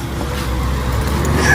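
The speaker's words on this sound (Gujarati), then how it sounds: "આ ગાડી આવી જો" A car approaches along an off-road track with a steady, low engine rumble that grows slightly louder toward the end, with faint voices in the background.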